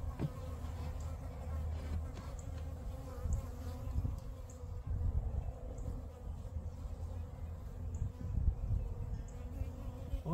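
Many bees hum around a hive in a dense, continuous drone close by, a low buzzing swarm that rises and falls slightly, with no voices.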